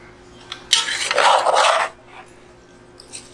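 Cheese sauce stirred into potatoes in a Dutch oven, heard as a short burst of scraping and clinking of a utensil against the pot, then quiet.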